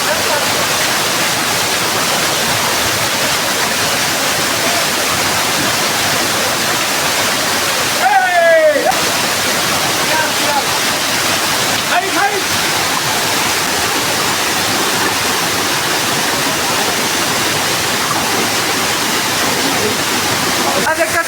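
A mountain waterfall roars steadily and loudly up close, a dense wash of falling water where someone bathes in the cold pool, with a brief voice breaking through now and then.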